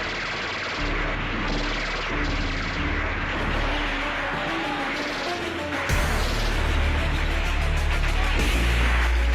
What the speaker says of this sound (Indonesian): suara tembakan terdengar di mana-mana